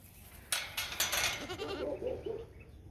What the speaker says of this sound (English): There are very few things in the world more funnier than baby goats.